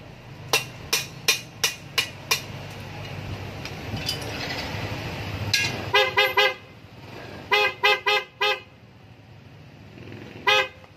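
Several short, sharp honks from a loud snail horn on a Yamaha NMAX scooter, sounding in bursts of two to four with pauses between them, over a low background rumble.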